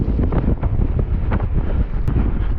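Strong wind buffets the microphone while a DIY electric BMX is ridden at speed, a loud, continuous low rumble that fills the clip with no voices.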